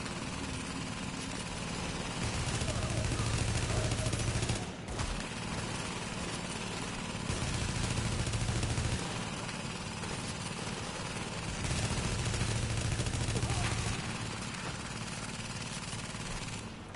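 Sustained automatic gunfire in The Division during a fight at Broadway Emporium, long steady bursts that swell and pause in repeating waves with a droning low rumble beneath, no voices.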